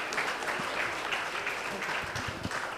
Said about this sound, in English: A big cheer to her, a big round of applause to her, ladies and gentlemen